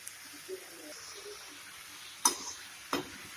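Masala is stirred into vegetables and sweet corn sizzling in a pan for pasta, a faint, soft frying hiss broken by two sharp spoon-against-pan clinks near the end.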